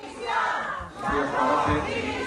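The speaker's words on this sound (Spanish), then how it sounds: "El presidente valenciano ha sido recibido con abucheos y gritos de dimisión" Crowd greeting the Valencian regional president with booing and shouts demanding his resignation, a continuous roar of many voices in two swelling waves, somewhat distant.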